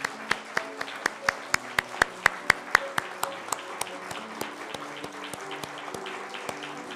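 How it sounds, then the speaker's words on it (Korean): A church congregation applauding during a Sunday service to welcome two new members, with sharp, fairly loud claps that thin out into scattered individual claps over a soft, hall-filling murmur. "두 분 선물 교회에서 축하 선물 전달할 때 우리 박수로 함께 환영해 주시기 바랍니다"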